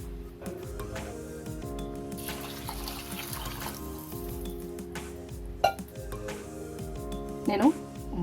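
Water poured into a pot of rice and sprouts for pulao, a soft splashing pour with a couple of brief clinks, set against steady background music and a voice.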